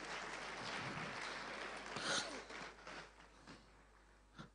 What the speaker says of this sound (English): Can you please clap for Mr. Nick Marden?